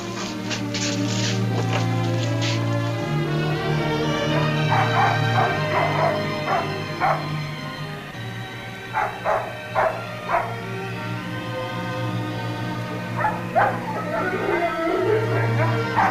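Sled dogs at a dog race bark and yip in short bursts, mixed with higher whimpering calls, over a constant low hum and fairly close by.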